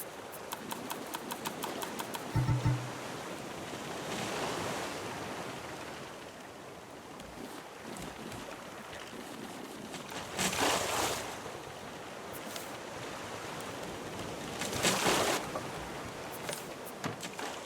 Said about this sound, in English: the water's getting kind of choppy now. This isn't a storm, it's just the waves are getting big